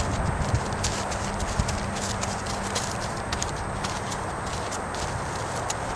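A horse walks under a rider during its second ride, with steady clip-clop hoofbeats in an even rhythm, close and moderately loud over constant outdoor background noise.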